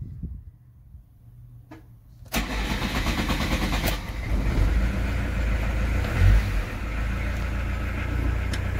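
A camper van's engine cranks after a near-silent pause, then catches and settles into a steady, close idle with a faint surge midway.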